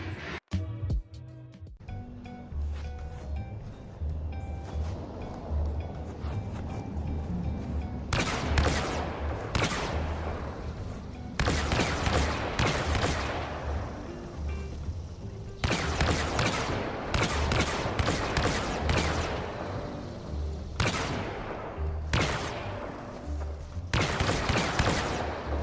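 A home-built X-8 Night Sniper blaster prop from Star Wars fires repeatedly in a shooting test, with sharp loud blasts in irregular bursts and volleys filling the stretch, close and punchy over steady background noise.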